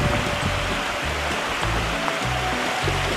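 Water pouring through a beaver dam of sticks on Crown land, a steady, close rush and splash of flowing water with a few low thuds underneath.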